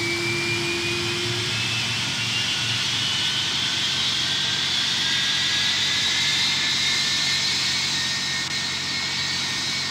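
A Boeing 757's RB211 jet engine spools up in a flight simulator game, an Icelandair departure at windy Keflavik, with a rising whine climbing steadily over a constant roar.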